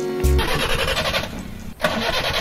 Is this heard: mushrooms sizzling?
no